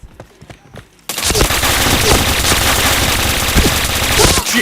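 Rapid automatic gunfire rips through a shooter video game: a second of quieter shots, then a loud, dense, sustained burst of fire with players talking.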